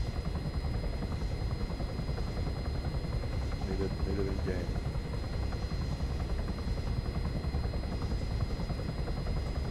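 A helicopter in a video game drones with a steady, continuous rotor hum throughout, under occasional brief voice chatter and faint distant gunfire.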